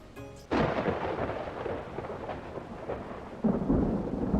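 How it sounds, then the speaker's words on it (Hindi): A sharp crack of thunder bursts in and rolls into a dense roar of heavy rain, with a second loud thunderclap near the end; no voices. "ज़ोर ज़ोर से बारिश होने लगती है और बादल गरजने लगते हैं।"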